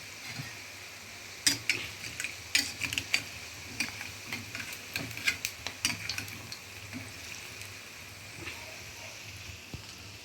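Battered green chillies for mirchi bajji frying in hot oil, a soft steady sizzle broken by scattered sharp clicks and taps of a utensil, moderately quiet and close.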